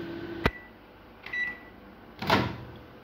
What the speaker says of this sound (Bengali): তো 1 মিনিটের জন্য আমি এটা মাইক্রোওয়েভ করে নিচ্ছি।